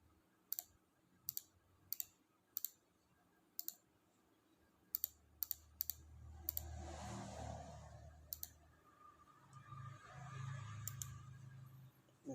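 Sparse, crisp clicks on a computer keyboard come in short irregular bursts of separate keystrokes, with a low rumble rising in the background partway through.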